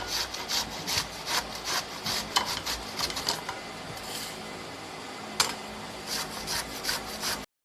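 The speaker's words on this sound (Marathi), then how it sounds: "तर अशा पद्धतीने आपण ही कैरी किसून घ्यायची आहे" A raw green mango is grated by hand, giving a close, rhythmic scraping rasp in repeated strokes, some quick and some longer, with brief pauses and no talking.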